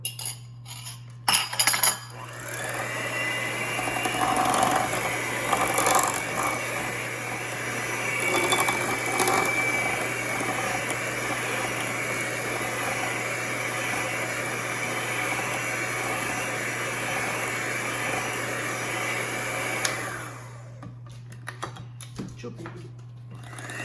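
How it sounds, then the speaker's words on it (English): An electric mixer beating eggs into creamed butter and sugar for banana walnut bread, a steady close whirring drone lasting about twenty seconds with bowl rattles, then stopping. "we're gonna add our eggs to it and mix it up well"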